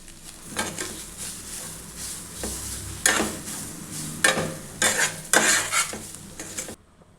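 Grated coconut and semolina fry in ghee in a metal pan, a soft sizzle under repeated scraping strokes of a spoon that grow louder and more rhythmic toward the end.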